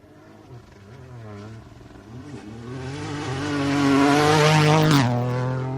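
A rally car on a stage of the Adelaide Hills Rally revs its engine and accelerates hard, growing louder as it approaches and peaking as it passes close by.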